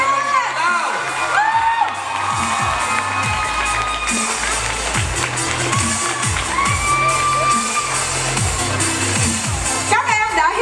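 Pageant audience cheering, whooping and shouting loudly and steadily throughout, with a crowd roar that surges near the end, at an evening gown pageant event.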